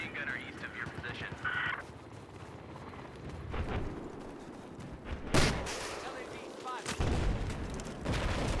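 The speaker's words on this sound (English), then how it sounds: "There appears to be an enemy machine gunner east of your position." Bursts of machine gun and rifle fire in the snowy Battlefield shooter rattle through a busy battlefield mix, with a sharper louder burst midway and steady combat noise throughout.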